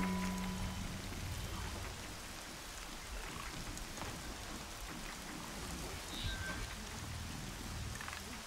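Steady rain in the video game Horizon Zero Dawn pours down as a dense, continuous hiss, with a faint low rumble underneath and no one speaking.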